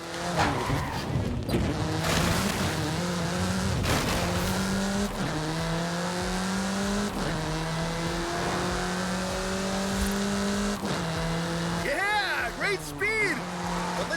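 A car in Forza Horizon 5 accelerates hard, its engine climbing in pitch through repeated gear shifts, with tire squeal near the end. A voice speaks intermittently over the engine.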